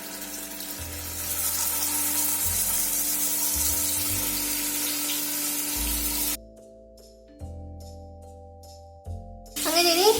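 Boneless chicken pieces for shawarma frying in a little oil make a steady, fairly loud hissing sizzle that cuts out partway through, followed by quieter pan sounds and a short burst of sizzle again at the end.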